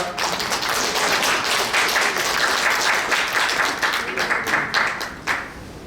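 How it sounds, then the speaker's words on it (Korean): Audience applause fills a New Year's gathering of a conservative citizens' group, steady dense clapping lasting the whole stretch before tapering slightly at the end, with no voices over it. "여러분들 큰 박수 부탁드립니다."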